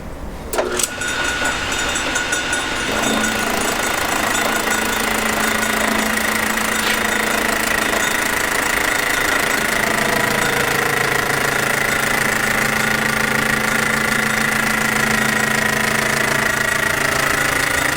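Steady mechanical whirring of a metal lathe taking a cut on a first-generation Dodge Cummins fan hub, with a continuous droning hum and faint high metallic ringing throughout.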